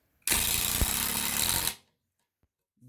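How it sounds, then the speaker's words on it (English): A Ryobi impact driver runs freely in a speed test, a loud, harsh, buzzing whir starting abruptly and holding steady for about a second and a half before spinning down, followed by quiet. "Right here's the Ryobi drill impact. I'm going to be doing a speed test on this one."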